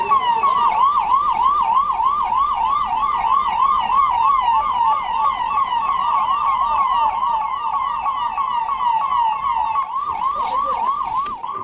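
An ambulance siren wails in a continuous rapid rising-and-falling yelp, loud and close, with faint traffic noise beneath and a brief change in the pattern near the end.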